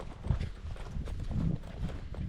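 A big cow walking close by, heavy hoof steps thudding in an uneven rhythm over a low rumbling background, with no voices.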